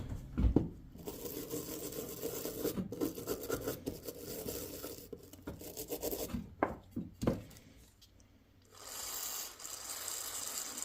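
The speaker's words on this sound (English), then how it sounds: "I need to bring in a brush for this" A brush scrubs a Troy Bilt TB70SS weedeater carburetor clean, a close, steady rubbing scratch with irregular strokes and a brief pause partway through.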